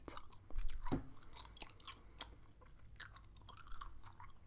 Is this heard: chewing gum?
yes